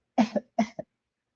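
Two quick pairs of coughs, close and fairly loud, each burst followed by a shorter second one, with silence afterward.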